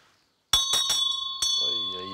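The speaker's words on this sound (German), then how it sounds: "Mal klingeln." A bell rings twice with clear, sustained metallic tones, the second strike about a second after the first, followed by a voice speaking.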